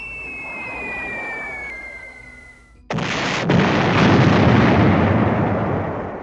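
Board game sound effect of a B-17 bomber salvoing its bombs, a loud sudden blast breaking in after a steady drone with a whistling tone, followed by a second crack and a long, heavy rumbling roar that fills the rest of the clip.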